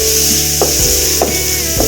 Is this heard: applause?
no